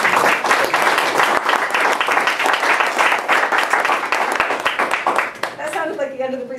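An audience at a linguistics tutorial gives sustained, dense applause after a presentation, loud and steady for several seconds before tapering off as a voice begins speaking.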